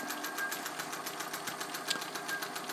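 A restored Singer 201K rotary sewing machine stitches drapery fabric with a long stitch, a fast, even mechanical whirring and rapid rhythmic ticking heard up close, steady throughout with no speech.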